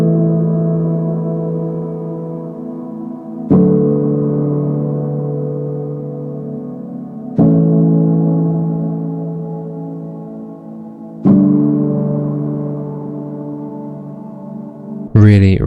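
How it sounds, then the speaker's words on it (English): The Spitfire Originals Cinematic Soft Piano plays a slow lo-fi progression of warm, sustained chords. Four chords are struck about four seconds apart, each left to ring and fade, close and alone. "As always, this is using the Originals Cinematic Soft Piano from Spitfire"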